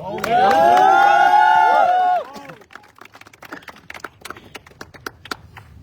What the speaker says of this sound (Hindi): हमारे शानदार और दमदार लीडर ऋषि राम साहू जी के लिए भी एक जोरदार ताली